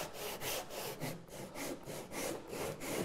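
A hand tool cuts a groove in wood during door making, with steady back-and-forth strokes, about eight in three seconds, close and fairly loud, no voices.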